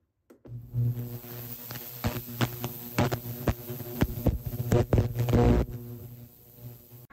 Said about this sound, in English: It's going to be going into the ultrasonic now to remove the polish that's on it